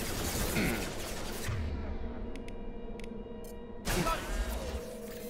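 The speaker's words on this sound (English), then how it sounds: "Hear that? Sounds like Fenris mechs." Fenris mechs firing in the Mass Effect 2 game, heard as a loud burst of rapid gunfire and whooshing that fades, then a second crackling burst near the end, over steady background hum.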